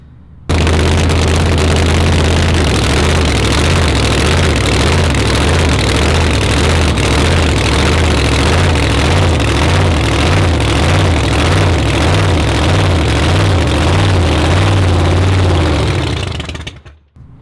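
Supercharged Pro Mod drag racing engine idling on a fuel-loaded blower, a loud, continuous, rough throbbing rumble with steady pulsing that holds for the whole stretch before cutting off abruptly at the end.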